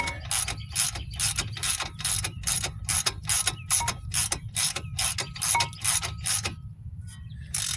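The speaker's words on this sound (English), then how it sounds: "That was a 3/4 socket on the end of my ratchet." A ratchet fitted with a 3/4 socket rapidly clicks as it tightens a front brake bolt on a 2015 Chrysler 200, a quick run of close, even ratcheting strokes that stops briefly near the end.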